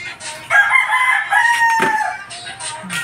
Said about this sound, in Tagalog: nag-iingay na yung mga chicken